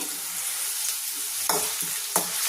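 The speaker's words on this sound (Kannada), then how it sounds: "ಈಗ ಈರುಳ್ಳಿ ಒಂಚೂರು ಫ್ರೈ ಗೋಲ್ಡನ್ ಕಲರ್ ಬರೋವರೆಗೂ ಫ್ರೈ ಮಾಡ್ಕೋಬೇಕು" Chopped medium-sized onion frying in a pan for mushroom gravy, a steady close sizzle with a few sharp stirring scrapes standing out, no voices.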